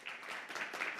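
An audience at an Olympia city council meeting claps in a brief, faint burst of applause.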